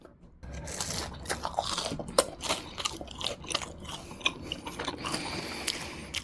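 Crispy fried clams dipped in soy sauce are bitten and chewed up close, giving a run of loud, sharp crunches with brief pauses between bites.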